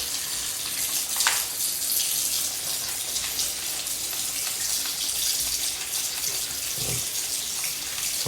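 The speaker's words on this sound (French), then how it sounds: "Donc je vais nettoyer ça à l'eau tout de suite." Tap water runs steadily over a dirty filter from a Bosch Avantixx 7 tumble dryer, a continuous close splashing rinse lasting throughout, with a couple of brief clinks and shifts in the flow.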